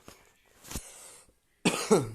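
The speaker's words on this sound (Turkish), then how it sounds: "Öksür tuttu." A couple of short coughs, fairly quiet, followed by a harsher cough or throat-clearing at the end.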